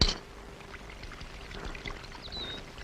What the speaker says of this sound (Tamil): ஏண்டி சாம்பார் மேலே ஊத்துற?